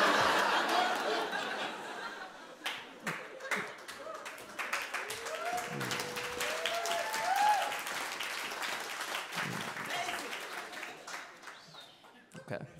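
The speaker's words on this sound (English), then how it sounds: "First applause break." Audience applause at a comedy show, a moderate crowd clapping that swells and fades with scattered chuckles and voices mixed in.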